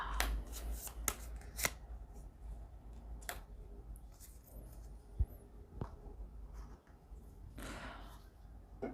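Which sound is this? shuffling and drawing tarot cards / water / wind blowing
shuffling and drawing tarot cards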